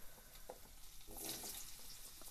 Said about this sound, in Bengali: আলুটা আমি ভালো করে লাল করে ভেজে নেব